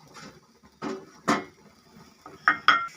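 Coconut and jaggery frying in a pan while being stirred, heard as sparse scraping and clinking of a utensil against the metal pan, with a few sharper knocks near the end.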